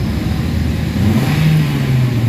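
A nearby 2017 Toyota Altis engine with throttle delay and low power hums steadily, then rises in pitch as it is revved and held around 2,000 RPM.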